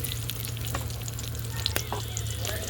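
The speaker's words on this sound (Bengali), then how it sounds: "এবার আলুগুলো ভেজে নেব।" Small pieces of potato fry in oil in a wok, a continuous close crackling sizzle with a low hum beneath and a few sharp pops, no speech.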